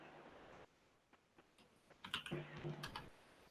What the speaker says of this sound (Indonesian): Kita ketik ipconfig